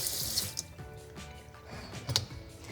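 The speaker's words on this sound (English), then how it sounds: "I'm gonna turn the water on one last time and check for any leaks right here." Water runs from a Delta Touch2O touchless kitchen faucet into the sink, a soft, continuous splashing stream with a few faint clicks, heard fairly quietly and close.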